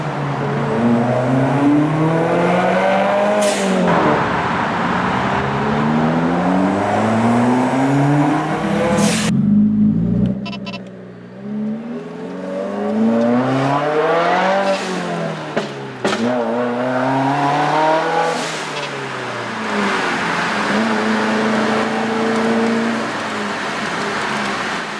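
A 2015 Subaru WRX with a blow-off valve makes several drive-bys, its engine rising and falling in pitch as it accelerates past and fades, with sharp hissy bursts between passes.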